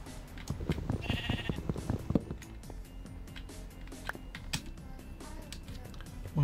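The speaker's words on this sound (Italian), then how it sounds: "Una pecora qua che ce la prende" Sheep bleats from the video game Minecraft, several short cries clustered early and mid-clip, moderately loud among game sounds, clicks and soft background noise.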